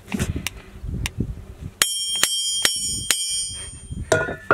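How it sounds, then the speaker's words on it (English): A hammer strikes a metal object sitting in a pool of mercury: a few dull knocks, then a run of sharp, ringing metallic hits spaced about half a second apart, loud and close. "I want to try hitting it with a hammer"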